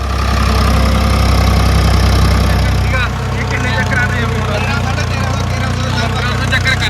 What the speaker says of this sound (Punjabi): ਖੁਦ ਕਿਸਾਨ ਭਰਾ ਵੀ ਚਲਾ ਕੇ ਦੇਖੀ ਜਾਂਦਾ ਟਰੈਕਟਰ ਨੂੰ